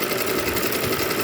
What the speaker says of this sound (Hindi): अब यहाँ से लेकर इसकी साइड सिल रहे हम नीचे तक नाइटी की।